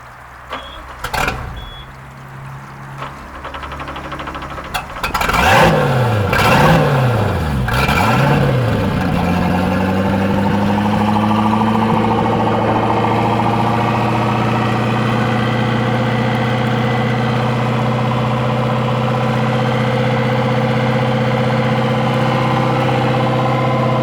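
An Ebbtide boat's engine cranks a few times, catches with a couple of revs, then settles into a steady, continuous idle, close and loud with no talking.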